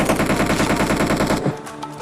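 Rapid automatic gunfire from a mobile battle royale game in classic mode, a loud sustained burst of shots that cuts off abruptly, followed by faint game ambience.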